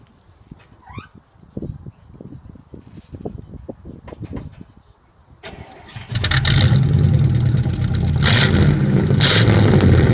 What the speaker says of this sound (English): I just cut the muffler out. Just put it straight pipe. Start it up,